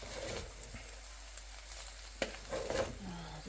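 Fried rice stir-frying in a pan after spring onion goes in, a soft, quiet sizzle with a few light scrapes and taps of the utensil near the end.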